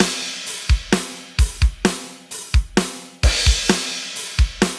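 Programmed metal drum beat with steady kick and snare hits, a crash and a partially closed hi-hat ticking through, a punchy, dry pattern repeating for several bars with no talking.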